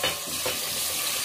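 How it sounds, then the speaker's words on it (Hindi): Onions frying gently in a pan for dal khichdi, a steady close crackling sizzle that holds even for its whole short length, with no voices. "प्याज हल्के हल्के से फ्राई हो रही है"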